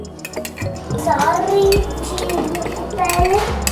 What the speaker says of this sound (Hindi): देखिए मैंने इसमें सारी चीज़ें डाल के इसको मिक्स कर रही हूँ।